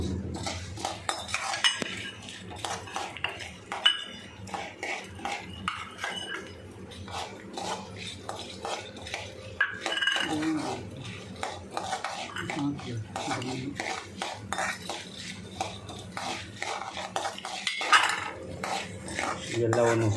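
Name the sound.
dry-roasting black peppercorns and spices in a pan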